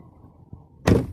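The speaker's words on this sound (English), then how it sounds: "let's go ahead and close the door" Quiet interior hum, then a single solid thump of a 2018 Volvo XC90's door shutting nearby near the end.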